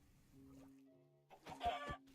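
A chicken in a hardcore survival video game gives a few soft, low clucks, faint at first and then a short louder burst of two or three clucks near the end.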